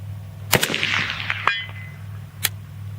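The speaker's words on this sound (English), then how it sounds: "Sounds like a solid hit to me on the first shot." A rifle firing Russian Brown Bear ammunition cracks sharply, followed by a ringing clang off a steel target, then another distant sharp report, all over a low outdoor hum.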